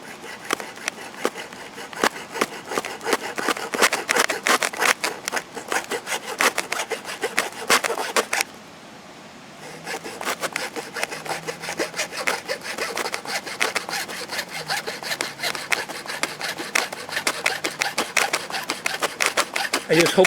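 A hand saw cuts through a tar-clogged part of a Zenith 6D-525 radio in rapid rhythmic rasping strokes. The strokes stop for about a second midway, then resume loud and close.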